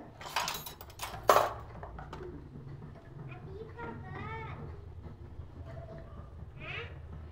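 A metal lid lifts off a pot of home-cooked chicken stew with a single sharp clink near the start, then a faint rattle, as a person keeps talking throughout.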